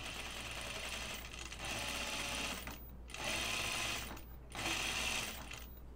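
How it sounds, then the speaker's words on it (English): Sewing machine stitching down a collar seam on a collar and stand, running in steady bursts with brief pauses between runs, close and continuous with no talking. "And then you're going to stitch it down."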